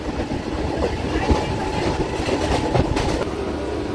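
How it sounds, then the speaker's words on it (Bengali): A Bangaon local train pulls into Ranaghat station, its wagons rumbling and wheels clattering steadily at close range for the whole stretch, with no talk. "ও বনগাঁ লোকালটা ঢুকছে"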